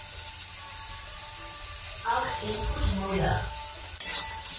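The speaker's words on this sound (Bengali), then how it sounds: "ভালো করে একটু ভাজি, তারপর পেঁয়াজটা ঢালবো" Vegetables frying in a pan with salt and turmeric, giving a steady sizzle with stirring and scraping. A voice speaks over it midway, and a sharp utensil knock sounds near the end.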